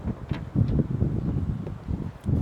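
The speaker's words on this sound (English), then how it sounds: "It's pretty windy" Steady low wind buffeting a microphone outdoors, with gusty rumbling swells and rustle, no voices.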